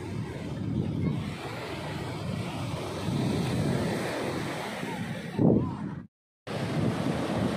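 Sea waves wash in at a beach while strong wind buffets the microphone, a continuous rumbling surf that swells briefly near the end before a short dropout, with no talking.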